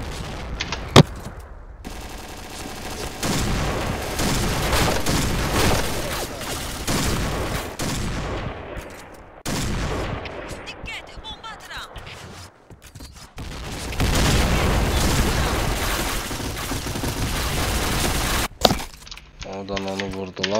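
Rapid gunfire and bursts from the video game Point Blank ring out in dense, loud volleys through most of the stretch, with brief lulls and sharp bangs while players talk over the shooting.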